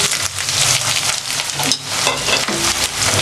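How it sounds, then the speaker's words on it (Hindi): Chopped onion hits hot oil in a pan and sizzles loudly and steadily, a dense continuous frying hiss with faint stirring scrapes and no talk. "तेल हमारा गरम हो चुका है, देखें। इसमें सबसे पहले प्याज डालेंगे।"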